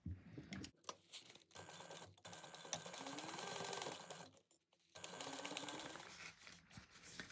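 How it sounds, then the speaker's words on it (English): A sewing machine stitches the gusset seam of a bag lining at a quarter-inch seam allowance. It runs quietly in two steady stretches of rapid mechanical whirring, separated by brief pauses. "we're going to sew that at 1/4 inch seam allowance"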